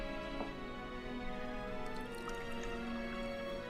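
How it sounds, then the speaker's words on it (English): Wine poured into a glass in the Last Word video game, a soft steady liquid trickle with faint drips over a low ambient hum, quiet and without speech. "You can pour a glass of wine fairly well, at least."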